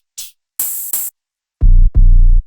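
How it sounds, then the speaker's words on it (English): Several distinct drum hits in a music production beat: a short bright noisy tick, two sustained hissy bursts, then two heavy booming low thuds, each separated by silence and with no talking. "These drum sounds are all pretty unique."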